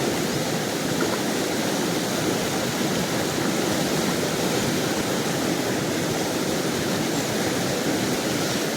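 A mountain stream runs where someone is micro lure fishing, its steady broadband rush of flowing water continuous and fairly close, with no voices over it.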